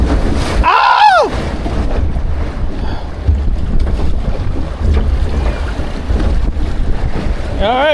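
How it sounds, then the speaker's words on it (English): A log flume ride boat at Six Flags Great Adventure bounces and splashes through water, with steady rushing water and wind noise throughout and brief rider shouts near the start and end. "we're on the log flume, bouncing around"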